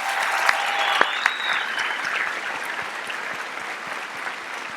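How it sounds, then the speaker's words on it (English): A crowd at a high school graduation ceremony claps for graduates entering the military, a dense, steady round of applause with a few sharp near claps early on, slowly easing toward the end. "I want everybody to applaud."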